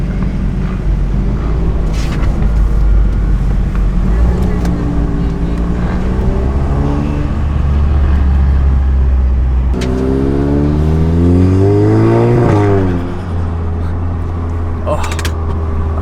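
A Volkswagen Golf R Mk7.5 with an FBO setup pulling away on a group car cruise, engine revving and climbing through gears up close, loud throughout, with a person talking over parts of it.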